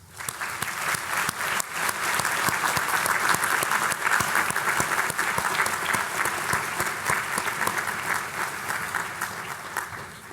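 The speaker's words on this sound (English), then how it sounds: "Please join me in giving them a round of applause." Sustained applause from an audience at a medical school white coat ceremony, building quickly from a few claps to a broad, steady roll of many hands before easing at the close.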